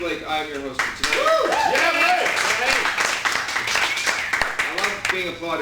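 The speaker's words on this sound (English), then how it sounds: "I love being applauded when I haven't even done anything yet." An improv show audience applauds and cheers loudly for the host, a steady wash of clapping that lasts several seconds, with a few voices rising above it.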